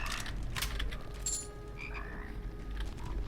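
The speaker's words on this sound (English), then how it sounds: "Oh, frogs." Frog enemies in the first-person shooter Immortal Redneck croak repeatedly at close range over a steady low game ambience, with a few brief higher chirps mixed in.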